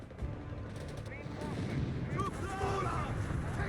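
Artillery barrage in the video game Company of Heroes 3, heard as a dense, continuous rumble of distant gunfire and explosions, with whistling shells and broadband crackle running throughout behind a voice speaking.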